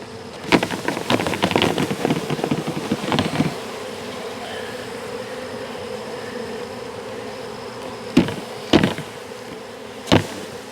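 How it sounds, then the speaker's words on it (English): Honeybees buzzing around an open hive during a beekeeping mite check, a steady close hum with a cluster of handling clatter early on and a few sharp knocks later. "the longer you wait, the more bees are just going to fly out."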